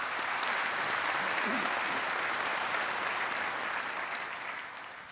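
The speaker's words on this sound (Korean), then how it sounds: "여러분 박수 부탁드리겠습니다" Audience at a Korean commemorative ceremony applauds, a steady, dense wash of clapping that holds evenly and then slowly fades toward the end.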